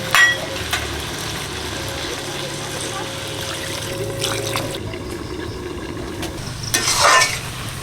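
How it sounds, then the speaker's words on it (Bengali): Water splashes into a pan of fried spiced potatoes, with a softer sizzle and stirring scrapes beneath, as a potato and eggplant curry gravy is started. A voice talks quietly over the cooking, and a louder pour rushes near the end. "মশলা আলু মশলা কষানো হয়ে গেছে জল দিয়ে দিচ্ছি ঝোলের জন্য"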